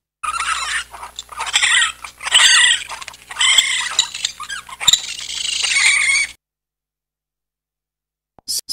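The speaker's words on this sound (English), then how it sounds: "Raccoon." A raccoon chitters and squeaks in a run of short, loud, close bursts for about six seconds, then goes quiet apart from a brief final noise.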